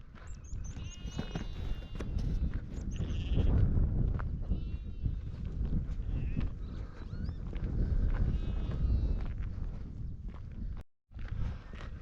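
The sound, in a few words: sheep and lambs bleating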